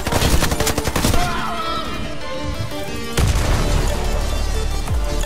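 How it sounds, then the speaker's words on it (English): Warface video game combat with dense, continuous gunfire and a grenade explosion bursting in, loud and chaotic throughout with layered shots and booms. "Somebody threw the grenade!"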